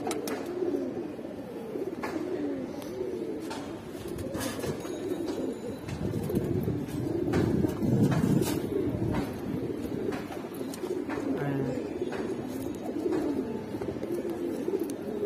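Pigeons cooing steadily in a Giribaz pigeon collection, including Afsan bagha and silver Giribaz birds, with overlapping low throaty coos from several birds close by and no talking.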